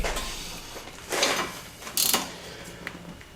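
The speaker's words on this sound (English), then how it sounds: "we got to take this bolt out, which should be another 15" A ratchet wrench works a suspension bolt on a Mercury Mountaineer with a 5.0 engine, giving close, sharp clicking in short bursts with brief pauses between.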